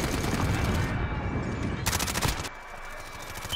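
Loud automatic gunfire in the Warzone battle royale shooter, a fast steady rattle of shots that briefly sharpens and intensifies, then gives way to quieter background sound near the end.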